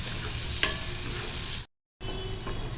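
Onion and tomato sautéing in a pan for a sponge gourd bharta, a steady close hiss of frying with one sharp clink, briefly cut to silence before the sizzle resumes.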